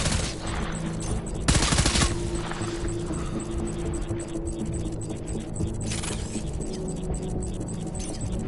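Rapid bursts of video game gunfire crackle over a steady background hum, with a loud volley around the middle and another later, dense and close.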